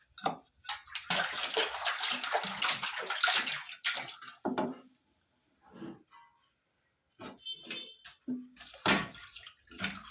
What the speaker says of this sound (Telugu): చికెన్ అయితే 2 సార్లు అయితే బాగా కడిగేసుకొని